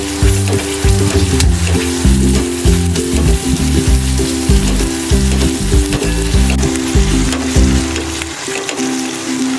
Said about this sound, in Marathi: कांदा आपल्याला आलं लसूण पेस्ट व्यवस्थित भाजून घ्यायची आहे